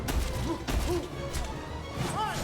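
A game explosion in Silksong bursts with crashing, thudding impacts amid fiery effects, repeated hits over a couple of seconds, loud and busy, with a voice exclaiming over it.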